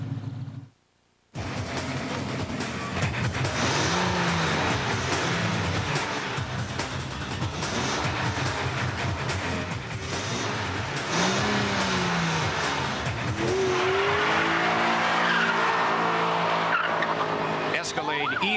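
A Pontiac GTO with 350 horsepower roars loudly, its engine revving hard with tire squeal and skidding, under a voice talking throughout.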